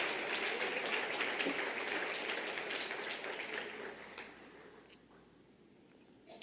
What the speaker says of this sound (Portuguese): Você vai aplaudir, aplauda, dando glória a Deus.